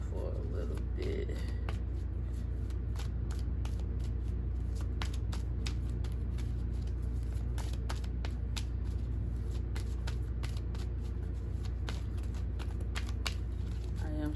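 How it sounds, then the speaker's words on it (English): Cards are shuffled repeatedly, giving quick crisp riffling snaps in an uneven rhythm over a steady low hum, close to the microphone. "I am shuffling."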